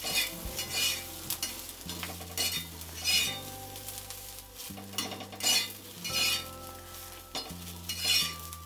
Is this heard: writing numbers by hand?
no